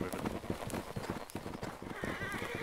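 Horses gallop in a team line battle in the video game Holdfast: Nations At War, with a dense, rapid patter of hoofbeats running throughout and occasional whinnies rising above the pounding.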